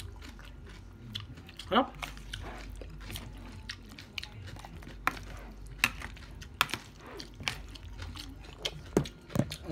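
Salad with egg being eaten, with repeated crunchy bites and chewing close to the mic plus a few clinks of cutlery, under intermittent speech.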